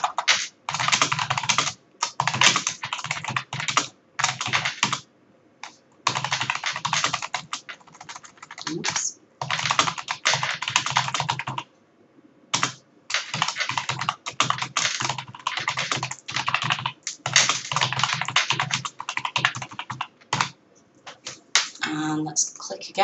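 Steady typing of text on a computer keyboard, close and crisp, in long runs of quick key clicks broken by a few short pauses, with no talking over it.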